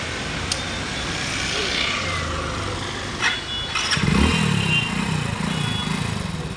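A motorcycle at a driving test ground is kick- or self-started; after steady background noise the engine catches around midway and settles into a low, rumbling idle nearby.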